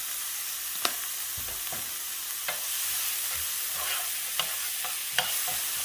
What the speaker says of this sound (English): And we're going to let that saute for about a minute.